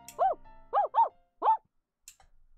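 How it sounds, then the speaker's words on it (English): A dog barks outside in four excited, yapping bursts, three in quick succession and one after a short pause, fairly close and clear with no talk. "I heard him bark excitedly and I look up."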